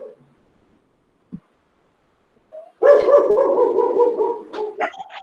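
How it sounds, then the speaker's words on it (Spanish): Several dogs bark loudly in a burst of overlapping, sustained barking after a mostly quiet stretch broken by a couple of brief sounds. "la bulla de los perros"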